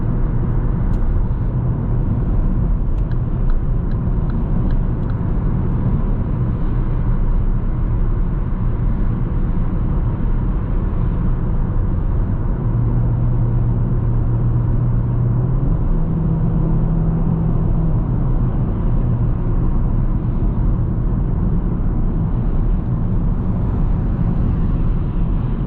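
Car on a test drive as the driver presses the accelerator, a steady close road and engine rumble inside the cabin that holds evenly throughout, with a slight rise in tone midway and no talking.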